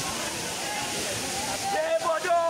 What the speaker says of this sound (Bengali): পাহাড়ে কুল ঘেঁষে যে ঝর্ণা পানি পড়তেছে